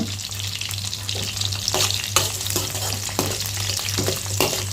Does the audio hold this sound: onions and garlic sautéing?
yes